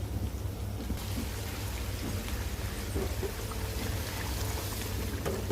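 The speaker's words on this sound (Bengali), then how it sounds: "তো বলক চলে আসছে" Chicken curry, a braised spiced chicken dish with water and roasted cumin powder added, simmers at a boil in a pot, giving a steady dense bubbling and crackling hiss throughout, with a low hum beneath and no talking.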